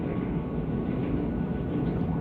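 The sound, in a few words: train passing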